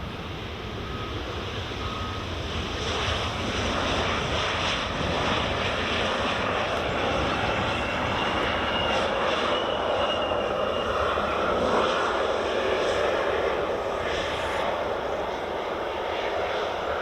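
A United airliner at Edinburgh Airport's runway 06 gives off a continuous, steady jet engine roar and whine, fairly loud and unbroken throughout as it lines up.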